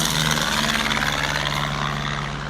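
A small propeller airplane engine runs close by at Oshkosh AirVenture 2025, a steady loud drone with a buzzing tone as it starts up and powers out of a camping spot to taxi.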